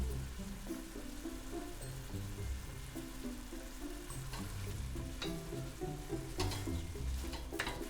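Chicken teriyaki stirred in a hot pan as the sauce reduces and thickens, a faint but continuous bubbling sizzle with soft spatula scrapes growing busier toward the end, no voices.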